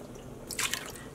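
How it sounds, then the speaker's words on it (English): Dye liquid poured from a measuring cup onto a yarn cake sitting in a dyepot, a short soft splash and trickle in a quiet room, faint and close. "I'm gonna go ahead and add another half cup, pouring some directly on the cake."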